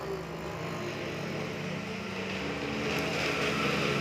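A motorcycle engine rumbles steadily and fairly close, a continuous low drone that grows slightly louder toward the end.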